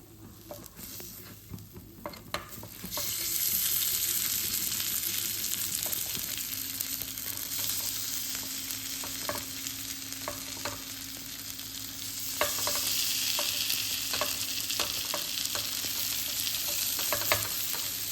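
Hissing sizzle of pancake batter frying in a hot pan, with occasional light scraping and stirring clicks, steady throughout.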